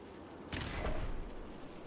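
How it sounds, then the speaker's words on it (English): Gunfire in the cyberpunk strategy game Heart of the Machine: a sudden burst of several shots, with an abrupt onset followed by a short decaying rumble, fairly quiet in the mix. "Bunch of gunshots."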